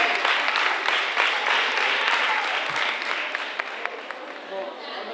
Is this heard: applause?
yes